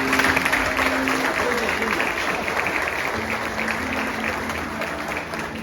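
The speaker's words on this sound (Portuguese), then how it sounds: "Aplauda o nome do Senhor Jesus aí." A Sunday church congregation applauding, a dense continuous roar of many hands clapping at steady loudness throughout, with faint voices and music tones beneath.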